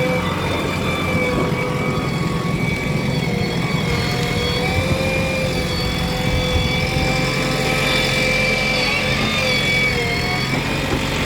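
A tractor engine runs steadily nearby with a continuous droning rumble and tonal whine, holding an even level throughout, with no talking.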